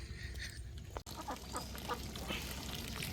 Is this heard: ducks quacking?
yes